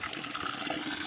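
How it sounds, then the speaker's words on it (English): A waterfall in Tijuca National Park, Rio de Janeiro, gives a steady dense rush of falling water, even and continuous across a short moment with no voices. "waterfalls"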